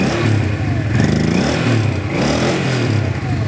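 A 1983 Honda Ascot motorcycle engine idles steadily in winter, close and loud, with a continuous mechanical rumble and slight clatter and no voices.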